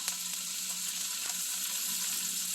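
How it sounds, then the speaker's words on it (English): Butter melts in a hot frying pan for a breakfast dish, giving a steady, close sizzling hiss that runs unbroken through the whole moment with no voices. "You're gonna get a nice little chunk of butter. Throw her in there."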